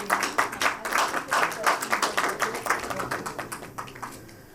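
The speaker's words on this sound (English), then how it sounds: "A huge round of applause." Audience applause at a business conference session, a steady patter of many hands clapping at moderate distance that gradually thins toward the end.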